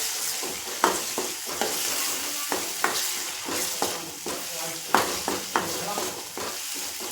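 Chutney and coriander-cumin powder are stirred into a sizzling gravy in a frying pan for garlic potato bhungla, with steady frying hiss and repeated scraping spoon strokes close by.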